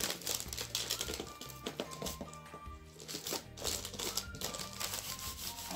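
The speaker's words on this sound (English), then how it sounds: "Then you're going to use a piece of sticky tape to secure that down." Sticky tape pulled and pressed down to secure a handmade paper gift box, a close run of crackling tears, papery rustles and quick tapping rubs as the strip is smoothed into place.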